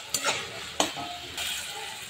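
A spoon stirs ginger-garlic paste frying in a pan, giving a steady sizzle broken by a few short scraping strokes and clinks. The sounds are close and there is no talking.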